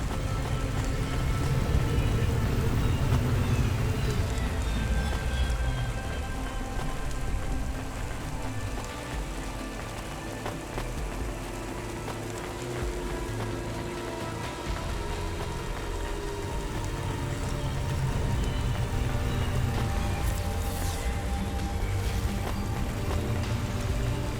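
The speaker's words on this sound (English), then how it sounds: "Warning, alkali rain in this region will corrode hobas, clothes, and exposed skin." Alkali rain falls steadily across a neon city in the video game Cloudpunk, a continuous broadband hiss of rain on surfaces with a low rumble of traffic or vehicles beneath, holding at an even level throughout with no talking.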